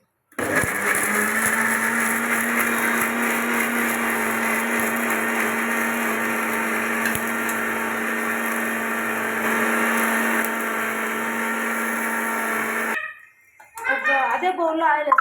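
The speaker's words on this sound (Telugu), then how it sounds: "మిక్సీ వేస్తాం." A mixer grinder blends tomato masala for paneer butter masala with a loud, steady motor whine that runs about twelve seconds, then stops abruptly and is followed by a short stretch of talk.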